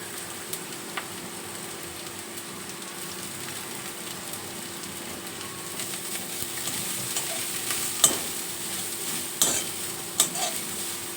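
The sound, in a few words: vegetables and chicken stir-fried in white oil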